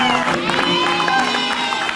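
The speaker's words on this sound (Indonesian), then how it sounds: "Tepuk tangan dulu dong buat mereka berdua" A studio audience on a television talk show applauds two guests with a brief burst of clapping and crowd noise, mixed with a sustained tonal background and voices.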